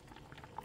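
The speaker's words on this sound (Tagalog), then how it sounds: "Kumukulo." Crab and taro stewing in a pot bubbles very faintly in a short, quiet burst of soft popping, with no voices.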